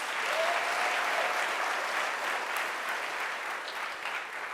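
Sustained applause from a large audience at a university graduation ceremony, dense and even clapping that fills the hall steadily from start to finish.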